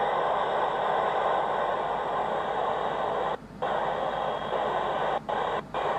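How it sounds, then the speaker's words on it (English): Ham radio static aboard the space station, a steady loud hiss with a buzzing hum underneath, cut by a few brief dropouts where the noise momentarily mutes. "So now you can hear a lot of static"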